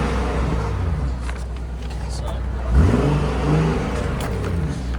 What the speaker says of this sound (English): I'm going to give it a little rev for you so you can have a quick listen to what the exhaust sounds like.